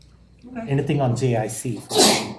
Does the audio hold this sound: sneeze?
yes